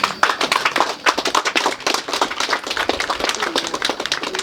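An outdoor audience at the commissioning of a new maternity clinic in Ghana's Upper West Region claps steadily for several seconds, a dense patter of many hands with no voices over it.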